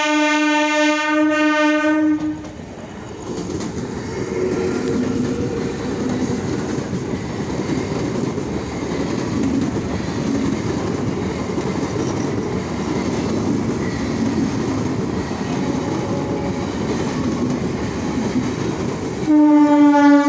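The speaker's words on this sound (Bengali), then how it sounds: "তো ট্রেনটা এখনই ছাড়বে মনে হচ্ছে।" A train at a station about to depart, loud horn blasts at the start and end framing a steady rumble of rolling cars and clattering wheels, no talking.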